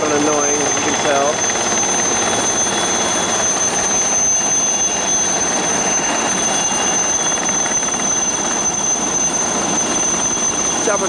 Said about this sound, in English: here is the Ecuadorian bubble chopper that everyone hates in Japan. Because it is really loud and annoying